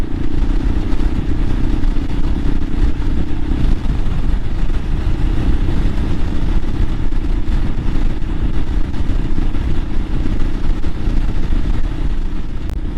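A Royal Enfield Himalayan motorcycle cruises along Ortega Highway 74, its engine giving a loud, continuous low drone mixed with heavy wind rush that stays steady from start to finish without talking.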